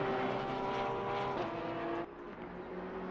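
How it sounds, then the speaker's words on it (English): BMW race car in a racing game at Laguna Seca, a steady high engine drone under load that drops sharply as the revs fall, then settles lower. "Here we have Vivek in the 444 BMW."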